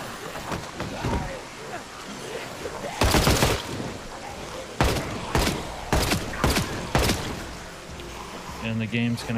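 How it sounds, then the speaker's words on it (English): Suppressed gunfire in the zombie survival game Project Zomboid, several loud, sharp muffled shots in irregular bursts over a noisy game background, with someone talking between them. "they hear the silenced gunfire from pretty far away."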